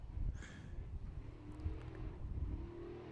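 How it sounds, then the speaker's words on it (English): Race cars on a pine forest enduro rally stage, engines heard faintly in the distance with a rising and falling drone as the cars approach through the trees, fairly quiet and without talk. "you got 3 cars coming at you at full noise"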